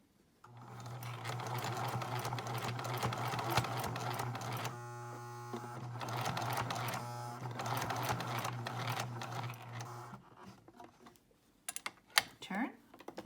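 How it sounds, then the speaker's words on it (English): A home sewing machine stitches down the pleats of a cloth face mask with elastic, a steady close mechanical whir in long runs with a brief pause midway, stopping near the end with a few handling clicks. "Now we're going to sew down the pleats and back."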